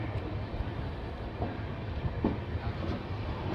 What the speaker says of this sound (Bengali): মেচেদা থেকে ট্রেনের ডিপারচার হয়ে গেছে